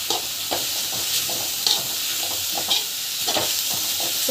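Vegetables sautéing in a pan with chilli powder and chaat masala make a constant sizzle, with a spatula scraping and stirring at a loose, repeated rhythm, close by and without talk.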